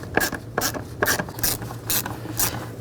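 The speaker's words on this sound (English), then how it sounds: "then you can tighten all these screws down" Ratchet wrench tightening throttle body clamp screws on a 2010-16 Buick Lacrosse, six quick rhythmic bursts of clicking pawl ratcheting, close and fairly loud with no speech.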